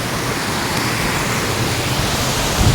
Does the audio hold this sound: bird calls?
no